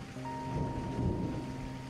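Steady rain falls in an audio drama as a continuous dense hiss with a low rumbling undertone, unbroken and fairly loud, with a faint sustained tone running through it.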